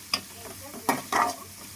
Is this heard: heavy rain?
no